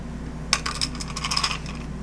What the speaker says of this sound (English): My special dice putting away.